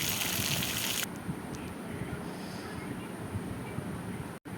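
Snack pieces for a homemade Kerala tea-time treat dropped into very hot oil, giving a steady broadband frying hiss that stays loud and even throughout, with no talk.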